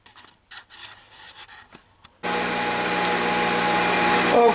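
Bench grinder working a steel riveting hammer, with a few quiet setup knocks and handling sounds before the grinder starts abruptly as a loud, steady, harsh whine with a gritty edge, close by and continuing to the end.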